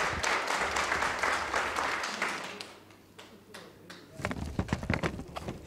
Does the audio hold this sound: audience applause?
yes